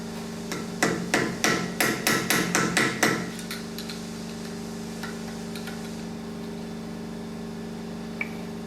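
About ten sharp metallic hammer blows in a quick steady rhythm, close and loud, bend a lock washer tab over the front hub nut of a 4WD Toyota, then stop, leaving a steady low hum behind.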